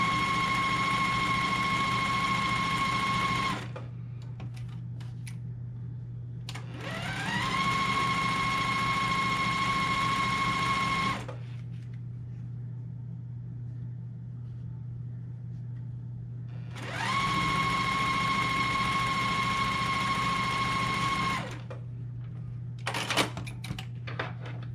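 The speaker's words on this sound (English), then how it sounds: "I'm going to stitch on both sides of that drawn line" A sewing machine stitches quilt fabric pieces in three steady whirring runs of several seconds each, separated by quieter pauses, heard close and alone over a constant low hum.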